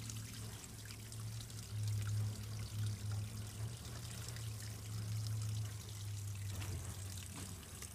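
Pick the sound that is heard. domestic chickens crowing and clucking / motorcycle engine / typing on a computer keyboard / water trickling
water trickling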